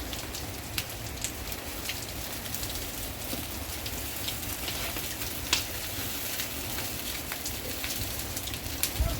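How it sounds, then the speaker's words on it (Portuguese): Rain falls steadily on surfaces on a São João bonfire night, a dense, continuous patter with occasional louder drops and faint crackles. "Olha a chuva, viu? Olha só."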